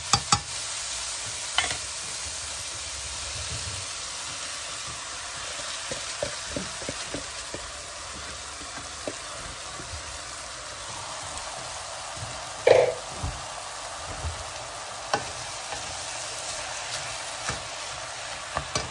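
Rice tipped into a pot of sizzling vegetables for a rice-with-vegetables-and-cinnamon dish: a steady, soft frying hiss throughout, with light stirring scrapes and one sharper clatter partway through as the grains go in.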